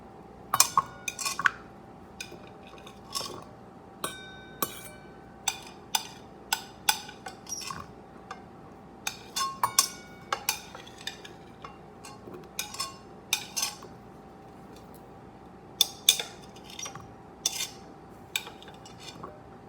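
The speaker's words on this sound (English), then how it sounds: "I'm just going to scrape half of my fruits and veggies into each bowl" Fruits and vegetables scraped from a dish into two bowls for sugar gliders, giving a long run of sharp clinks and taps of a utensil on the bowls. The taps come in irregular bursts, close and crisp, with no speech.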